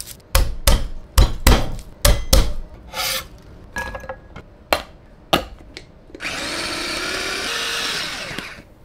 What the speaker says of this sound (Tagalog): maghihiwa muna tayo ng bawang